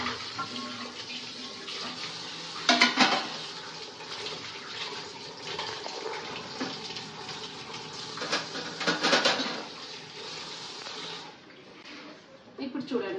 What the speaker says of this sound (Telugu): మనం ఇప్పుడు ఏవైతే తోముకున్నామో వాటిని అయితే నీట్గా కడుక్కోవాలి